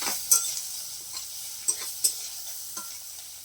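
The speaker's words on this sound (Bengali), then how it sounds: "তারপরে মশলাটাকে আমি এইভাবে কষে নিচ্ছি।" Spice paste with chilli powder and turmeric fries in a pan while being stirred, a steady soft sizzle broken by several sharp scraping clinks of the spoon against the pan, close up and without speech.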